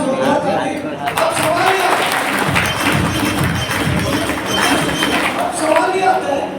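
A meeting audience at a business event in Kukshi, Madhya Pradesh, breaks into loud, dense applause that holds steady and close throughout, with some crowd noise mixed in.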